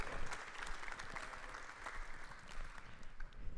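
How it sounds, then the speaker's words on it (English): An audience at a business conference talk applauds steadily at a moderate distance as a speaker is introduced, a dense, even wash of many hands clapping with no voices on top. "Please give a warm applause for Jochen."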